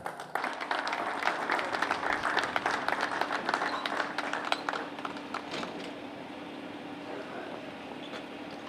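Crowd applause for a category winner at a classic car show in Ormož, for cars built 1945 to 1960: steady dense clapping for about five seconds, then tapering off into quieter ambient noise.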